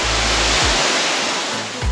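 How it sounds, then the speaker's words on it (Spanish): A waterfall in Bali roars as a loud, steady broadband rush of falling water, constant and close with no voices, a low rumble dipping in and out beneath it. "si queréis disfrutar de esta cascada"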